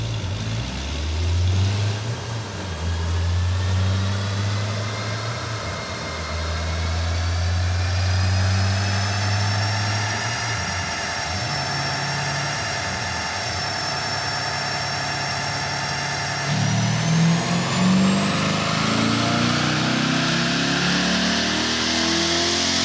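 A tuned car engine on a dyno power test, with the tune adding horsepower, idles with a low rumble, then revs up in long rising pulls, loud and steady throughout with no talk.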